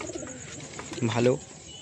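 A pigeon lets out one short, low, throaty coo close by, over soft background noise.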